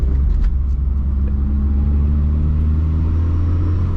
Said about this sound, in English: kind of fun driving a little 4-cylinder carbureted car.